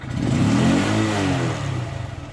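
A Honda Grom motorcycle with a modified air intake revs up once, the engine rising to a loud, deep close roar for about a second before dropping back toward idle.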